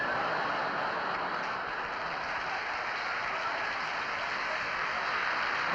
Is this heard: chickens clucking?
no